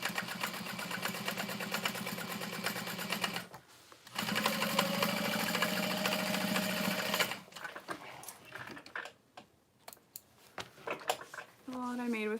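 A sewing machine basting the side pocket of a handbag runs in two long steady whirring bursts with a short pause between, then stops, followed by quieter handling noises.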